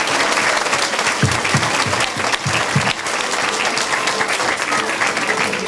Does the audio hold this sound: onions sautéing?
no